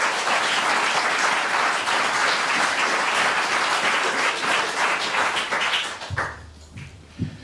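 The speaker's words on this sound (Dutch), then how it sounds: "Mag ik een hartelijk applaus voor Jozef Kessels" A warm round of applause greets Joseph Kessels as he takes the stage at an evening education talk, thick steady clapping from a sizable crowd that thins out near the end as a few low sounds emerge.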